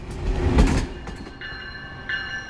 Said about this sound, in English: An outbound Metro Electric rolls slowly through the Van Buren Street station.